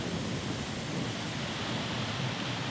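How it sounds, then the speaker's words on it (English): Proxy Falls, a multi-tiered waterfall fed by Proxy Creek and swollen with winter snowmelt and rain runoff, rushes in a steady, loud, broadband roar with no pauses. "The flow of Proxy Falls was extra powerful with the winter snow and rainwater runoff"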